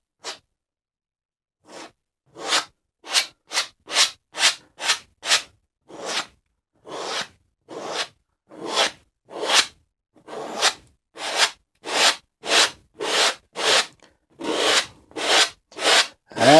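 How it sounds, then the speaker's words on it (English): Palette knife scraping excess oil paint off a canvas in a landscape painting: a rapid series of short, dry rasping strokes, sparse at first, then steady and rhythmic, close and fairly loud, with no talk. "And we'll scrape some of that excess paint off."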